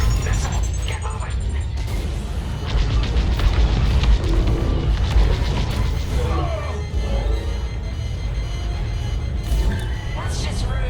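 Missile launches and explosions from the space combat game Star Wars: Squadrons, a dense, loud wash of booming blasts and rumbling engine noise running throughout, with a brief rising whine at the start and a voice speaking over it.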